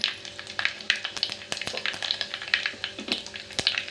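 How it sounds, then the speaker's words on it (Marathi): Mustard seeds, curry leaves and cumin sizzle and pop in hot oil, a continuous frying hiss studded with rapid, irregular sharp crackles and spits, close and fairly loud, with no talking. "तेल गरम झालेलं आहे त्याच्यामध्ये मोहरी कढीपत्ता जिरं"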